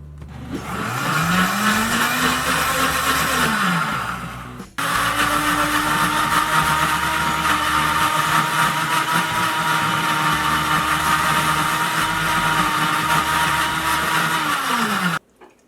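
An Ace Plus blender whirs loudly at high speed while blending nut milk, cutting out briefly after a few seconds, then restarting and running steadily before stopping abruptly.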